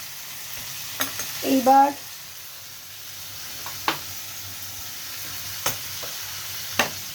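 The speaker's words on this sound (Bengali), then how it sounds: "কাঁকরোল, আলু, এগুলো হলুদ, লঙ্কা, নুন, মিষ্টি, মেথির গুঁড়ো, গোলমরিচের গুঁড়ো, তিলের গুঁড়ো, এগুলোর সাথে ভাজা হয়ে যাচ্ছে" Teasel gourd and potato fry in a pan with turmeric, chilli, salt, sugar, fenugreek, pepper and sesame powders, a faint low sizzle under a few sharp spatula scrapes and taps; someone says a brief word.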